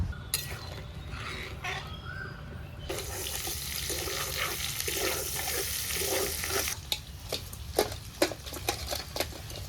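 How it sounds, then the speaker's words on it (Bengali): Potatoes and cauliflower fry in hot oil in a home kitchen, giving a steady close hiss that is broken by several sharp clinks of a utensil against the pan. No one speaks. "গরম তেলে আলু ফুলকপি ভাজতে বসিয়ে দিয়ে"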